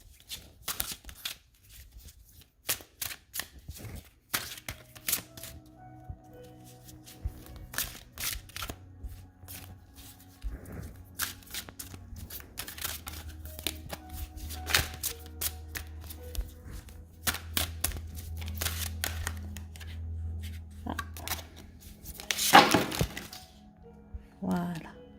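A gold-edged deck of cards is shuffled by hand in repeated crisp riffles and snapping bursts, quiet and close, with someone speaking softly between and over the shuffles.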